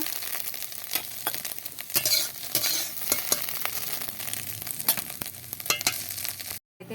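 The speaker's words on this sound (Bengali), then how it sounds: "ভাজা হয়ে গেছে আমি এবার ডিমটা তুলে নেব" An egg finishes frying in oil and is lifted from the pan, close sizzling with scraping utensil clicks and stirring knocks throughout, ending in a brief drop to silence.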